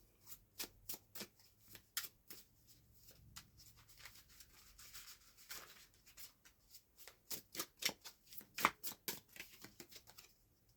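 Tarot cards are shuffled by hand in quiet bursts, a run of soft crisp riffles and taps that speeds up and grows louder toward the end, with no voices.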